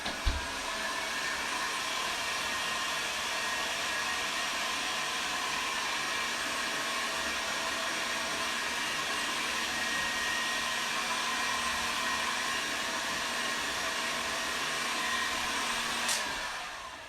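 A hair dryer runs steadily to dry a painting of Easter bunnies, giving a constant, fairly loud whirring hum from start to finish with no voices.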